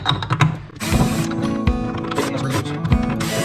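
Screws being removed from an infrared heater being scrapped, heard as a steady run of close metallic clicks and ratcheting turns with scraping tool noise.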